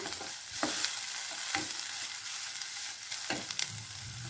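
Grated coconut and radish for a chutney fry in a pan with a continuous hissing sizzle, punctuated by a few sharp stirring clacks and scrapes against the pan; close and alone, no speech.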